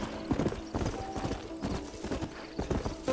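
Horse hooves clip-clop steadily in the Western video game Red Dead Redemption, a close, rhythmic run of hoofbeats lasting throughout with no break.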